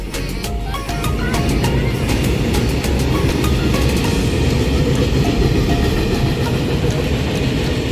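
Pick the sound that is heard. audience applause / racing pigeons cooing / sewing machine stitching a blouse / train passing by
train passing by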